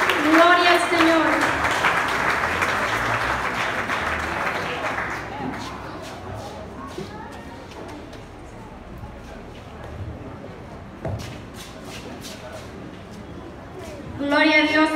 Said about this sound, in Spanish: Regálele esas palmas al Señor